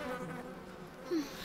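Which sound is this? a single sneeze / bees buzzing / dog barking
bees buzzing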